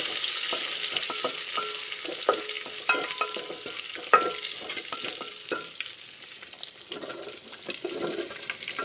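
Sliced onions dropped into hot oil with curry leaves and dried red chillies, frying with a crackling sizzle and scattered spatula scrapes and taps, close up, gradually settling quieter toward the end.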